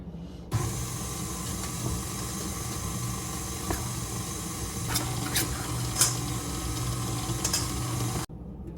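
An electric mixer blends wet ingredients into dry for chocolate monster cookie dough, giving a steady, close whirring drone that holds evenly for about eight seconds before cutting off.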